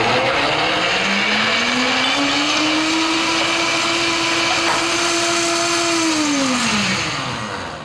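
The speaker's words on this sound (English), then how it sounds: "Now I'm gonna use the pre-programmed smoothie setting because it does all the work for me" A blender running its pre-programmed smoothie setting, mixing a green smoothie with ginger: a loud, steady motor whine that rises in pitch, holds and then winds down at the end, with no talking.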